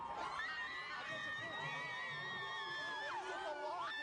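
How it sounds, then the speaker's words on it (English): A loud crowd packed into an outdoor plaza at a morning TV show cheers and screams, a dense, steady wall of excited voices with high shrieks rising above it throughout. "It's the loudest crowd we've had here in the plaza."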